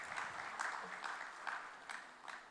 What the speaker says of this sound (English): And great applause to that.